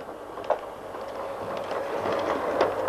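Model train set running on a carpet in front of a fire, a steady continuous rolling rumble with light clicks of wheels on track, moderately close and without talk.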